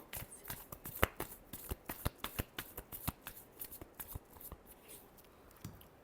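Tarot cards are shuffled by hand in a quick run of crisp, close riffling slaps that come in an irregular rhythm and are fairly soft.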